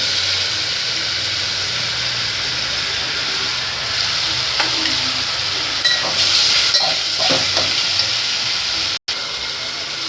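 Tomatoes frying in a pan with ginger-garlic paste for soybean pulao give a steady close sizzle, with a few scraping stirs toward the end and a brief dropout near the finish.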